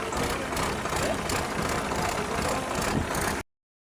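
A tractor engine driving a water pump for irrigating a potato field, a steady close mid-to-low rumble running continuously, then cutting off abruptly at the end.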